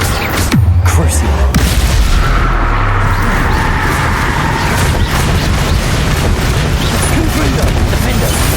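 Spell explosions from the video game Hogwarts Legacy: a continuous barrage of loud, booming blasts and crackling impacts that overlap into a thick, roaring wall of battle noise.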